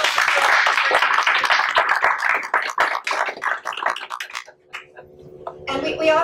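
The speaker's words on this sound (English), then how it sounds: "How about a louder round of applause?" An audience claps in a lively round of applause that thins into scattered claps and fades, followed by a brief spell of other sound at the end.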